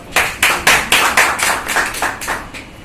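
Close, crisp hand claps in an even rhythm, about ten sharp strikes in under three seconds, loud and alone with no talk.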